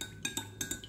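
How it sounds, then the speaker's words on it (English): A utensil stirring melted wax mixed with cinnamon and orange fragrance oil for wax melts, making a quick run of light, bright clinks against the container, about five taps in under a second. "Give it a good stir. As you stir it all different ways."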